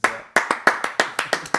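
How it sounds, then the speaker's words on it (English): Two people clapping for a podcast guest, about nine sharp, close claps at an uneven, fairly quick pace, each one distinct, with no crowd and no talking. "We're going to do a round of applause, Ezra."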